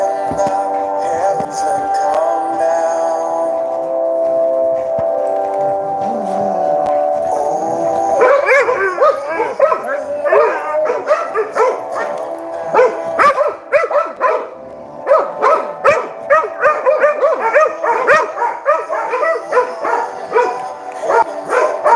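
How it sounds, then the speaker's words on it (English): Pit bull dogs howl and bark together at close range, sustained overlapping howls giving way to a busy stretch of repeated barks and yips, loud and continuous with no talking. "You're going to get some dogs howling here."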